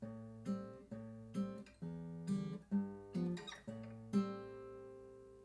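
Plucked acoustic guitar playing a short riff from a song, repeated picked notes and chord strums with a steady rhythm, close and clear, no voices.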